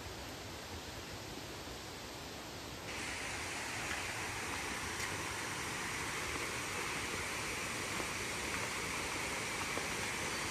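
Heavy water rushes steadily in a loud, dense wash along the Konkan during unseasonal May rain, and grows fuller after a few seconds. No one speaks.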